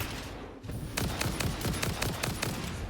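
Rapid automatic gunfire fired at an enemy in the factory-building game Satisfactory, a dense burst of repeated shots starting about a second in and continuing steadily to the end, loud and close with no talk over it.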